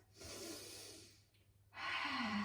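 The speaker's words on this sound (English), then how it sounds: "take a big breath in and out" A person takes a slow, deep breath in, pauses briefly, then lets it out in a long audible exhale, close and quiet.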